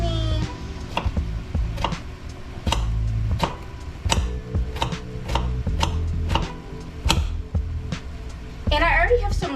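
A knife chops zucchini on a board in quick, fairly regular strokes, each one a sharp tap, with some clattering in between and a brief voice at the very end.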